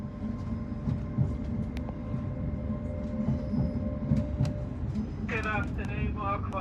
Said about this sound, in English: our Azuma snakes out of the station